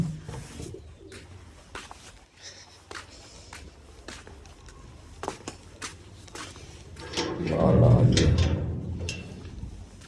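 Pigeons coo on a rooftop loft perch, soft repeated calls mixed with light shuffling and pecking taps, and a louder swell of cooing and a faint voice near the end.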